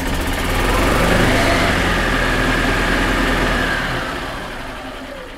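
The gas engine of a 2014 Yamaha Drive golf cart runs at a steady idle after starting, a loud close rumble that swells slightly and then eases off.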